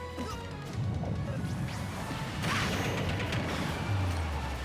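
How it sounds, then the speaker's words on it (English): Sonic's up smash attacks land in a Super Smash Bros. match, with repeated sharp crashing hits and whooshes over dense game sound effects and a low rumbling background. "Sonic using his up smashes really effectively so far this match"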